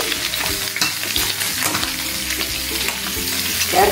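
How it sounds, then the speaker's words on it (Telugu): Capsicum frying in a pan, a loud continuous sizzle with repeated stirring strokes of the spatula close by, no talking. "లైట్ బ్రౌన్ వచ్చే వరకు ఇలా వేయించుకోవాలి. 1 కప్పు క్యాప్సికం వేసుకోవాలి."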